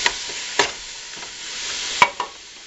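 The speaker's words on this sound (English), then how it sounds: "While your meat is browning" Ground meat browning in a pan for Santa Fe chili, heard as a steady soft sizzle with a few sharp scrapes or taps of a utensil breaking it up, close and moderately quiet, with no talk.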